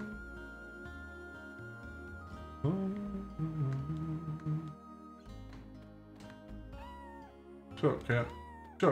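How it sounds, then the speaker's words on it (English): A cat meows in a JRPG video game, a few rising, curving cries over looping game music, with a voice talking in places. "Cat."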